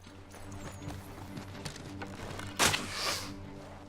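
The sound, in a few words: horse hooves galloping in video game Assassin's Creed III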